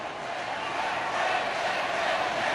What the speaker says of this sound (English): The Tip crowd getting behind their team